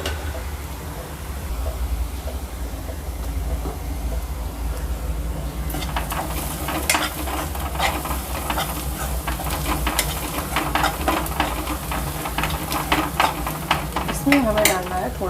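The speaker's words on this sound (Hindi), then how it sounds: "ब्राउन होने तक हमें इसको भूनना है। इसी में हमारा प्याज थोड़ा सा ब्राउन हो गया है।" Onions browning in a pan for stuffed brinjal sizzle steadily while a spoon scrapes and stirs, the clatter growing busier and louder in the second half, close up with no talk.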